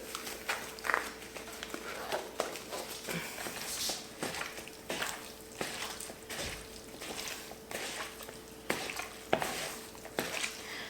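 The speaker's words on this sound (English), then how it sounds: "you're just gonna take a glove and mix everything together" A gloved hand mixing taco ingredients together, giving soft, irregular squishing and stirring sounds with sharper clicks and rustles, fairly quiet and close, with no talking.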